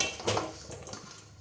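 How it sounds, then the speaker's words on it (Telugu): Lumps of jaggery tumble into a metal pot with a brief clatter, followed by faint rustling. "ఈ బెల్లం అంతా ఇందులో వేసుకుంటున్నాను"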